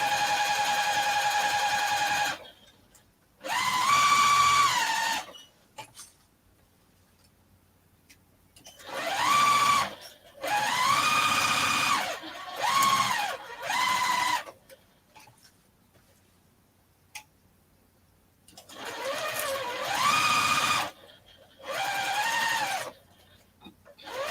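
Sewing machine running a basting stitch at length 2.5 across a cross stitch piece, in several loud bursts of steady whirring stitching separated by pauses, with no talk over it.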